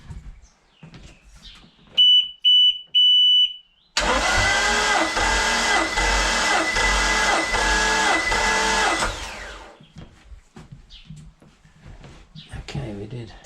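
A Volvo Penta 5.0 GXi marine engine turns over on its starter for about five seconds during a compression test, a loud steady rhythmic cranking with no firing. Short electronic beeps come before it, and faint background noise follows.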